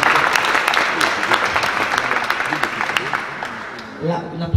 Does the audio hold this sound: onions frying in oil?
no